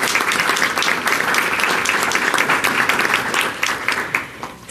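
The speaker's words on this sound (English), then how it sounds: "So let's give a round of applause to our first place finishers." An audience claps for first place finishers at an awards ceremony, a loud, dense, sustained round of applause from many hands that fades slightly at the end.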